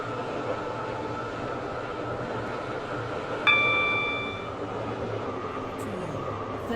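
A train runs steadily in the Roblox game Stepford County Railway on the Waterline service toward Greenslade, a constant rumble with a brief chime partway through.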